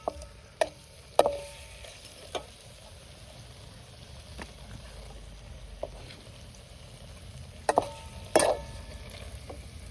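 Eggs fry in a pan for a Maharashtrian egg curry, with a low, steady sizzle throughout and sharp clicks and taps of a spoon stirring against the pan at irregular intervals, loudest near the end.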